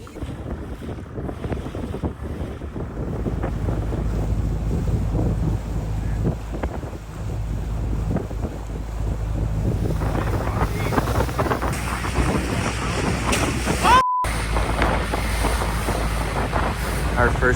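Boat ride on an island tour in Thailand, with steady engine rumble, water wash and strong wind buffeting the microphone throughout, loud and continuous.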